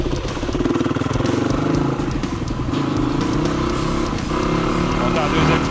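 A motocross bike being ridden in first and second gear, its engine droning steadily and loudly throughout, with a voice talking over it.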